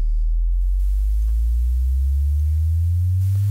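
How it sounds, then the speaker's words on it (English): A pure sine test tone under the DitherFloat dither plugin, a steady low hum that holds unchanged for several seconds, alone and fairly loud. "the test tone is undisturbed beneath it"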